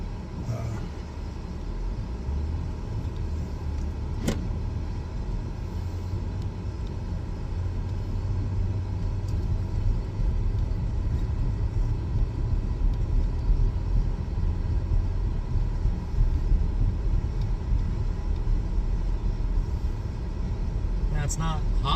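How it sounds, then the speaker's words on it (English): A Buick car on a test drive after air conditioning repair, giving a steady low engine and road rumble that stays even and moderately loud throughout, with faint cabin noise over it. "we'll take it for a test drive and see if it cools off"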